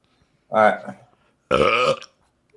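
Two loud, drawn-out burps after finishing a can of Red Bull energy drink, the second longer and harmonically rich, each standing alone in a quiet room with no talk over them.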